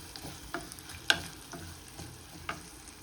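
Onion and chili seeds fry quietly in a pan with a low, close sizzle, punctuated by a few sharp pops and crackles spaced about half a second apart.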